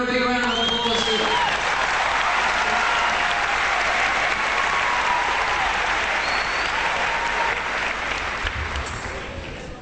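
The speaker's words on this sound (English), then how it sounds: "Give her a big round of applause here." A concert crowd at a show breaks into loud, sustained applause for a competition winner, a thick wash of clapping that fills the whole stretch and tapers slightly at the end, with a few voices and a brief tone near the start.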